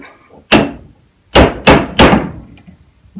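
Hammer blows setting a rivet on a sailing repair tool: one sharp metallic strike, a pause, then three quick ringing clangs, close and loud with no talking.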